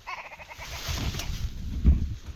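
An Alaska willow ptarmigan calling beside a gravel path outdoors, a short run of rapid, croaking, stuttering notes at moderate distance, heard alone.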